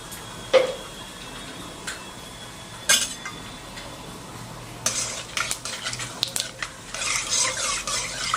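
Bay leaf and whole cumin dropped into hot mustard oil in a kadai for a dahi chicken, with a few sharp taps followed by a rising, crackling sizzle that grows louder and more continuous.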